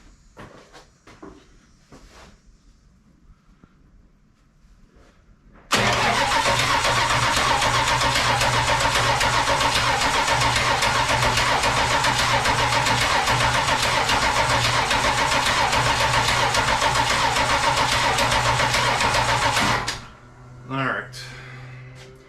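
A 1980 Dodge D100 pickup truck's engine cranks and catches, then runs at a loud steady idle for about fifteen seconds before shutting off, with faint voices and clatter before and after.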